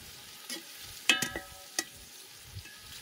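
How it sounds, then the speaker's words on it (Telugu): Onions for chicken biryani frying in a pan, a soft steady sizzle broken by a few sharp stirring scrapes and clinks of the spoon against the metal. "ఉల్లిపాయ అనేది బాగా బ్రౌన్గా రావాలి, బాగా మగ్గాలి"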